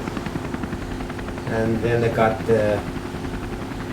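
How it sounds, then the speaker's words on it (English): A coastguard rescue helicopter over the sea near rocks during a surfer rescue, its steady rotor chop and engine drone running throughout and swelling louder midway, while someone talks over it. "shortly followed by the chopper"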